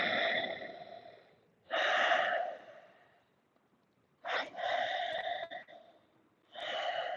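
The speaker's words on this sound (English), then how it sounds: "you can make this victorious breath sound" Slow, deliberate ujjayi-style breathing through the nose with a constricted throat, three long hissing breaths separated by pauses, close and airy like a light snore.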